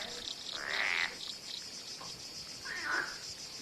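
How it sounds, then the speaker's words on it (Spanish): Frogs call during courtship outdoors, two rising chirping calls standing out over a steady high insect-like trill and a quiet night backdrop. "Las ranas se entregan a los rituales del cortejo en un marco de reposapiés decorados con motivos vegetales."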